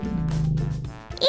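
An elephant in love calls with a low, steady harmonic rumble that holds for about a second, then breaks into a short, sharp rising squeal at the end.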